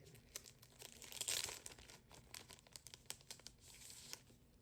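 A BTS-themed Oreo snack package gets opened up close: crinkling plastic and sharp tearing bursts, quiet and near, with no talking.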